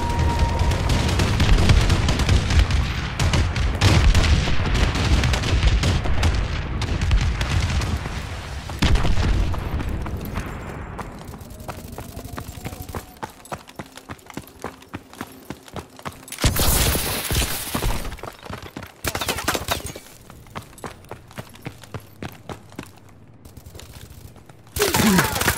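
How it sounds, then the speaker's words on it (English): Bombing run and missile strike explosions in Call of Duty: Advanced Warfare, a dense barrage of loud booms and rapid gunfire bursts, with sharper blasts and rattling fire continuing later. "Enemy bombing run incoming. Enemy missile strikes incoming."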